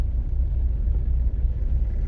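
A green Rover 420GSi Tourer estate car, crash-damaged, drives along with a steady low engine and road rumble heard from inside the cabin, continuous and fairly loud with no talking.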